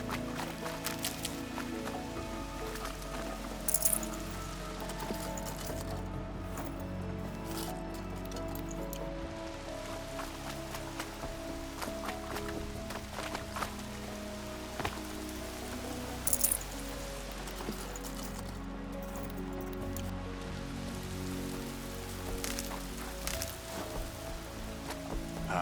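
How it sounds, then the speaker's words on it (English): Steady rain pours across a landscape in the video game Horizon Zero Dawn, a soft continuous hiss of drops on surfaces with a few brief louder spatters and no talk. "Rain's not so bad."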